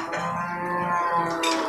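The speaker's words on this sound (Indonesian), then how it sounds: "Berarti ada sapi, ada kerbau ya." Cattle low at a crowded livestock market in Purwakarta, where cows and water buffalo are traded, a long drawn-out moo close by with a rising end.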